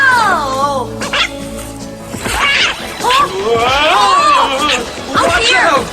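A cartoon puppy barks, yips and whimpers in bursts over excited voices and other cartoon sound, loud and close throughout.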